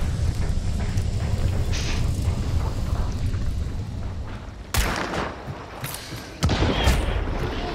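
Shotgun blasts in the video game Hunt: Showdown, two sharp loud shots spaced a couple of seconds apart over a busy background of game ambience.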